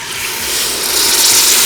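Water poured into melted jaggery in a pan while making Maharashtrian stuffed eggplant, a steady hissing, sizzling wash that builds slightly and holds, close and fairly loud with no talk.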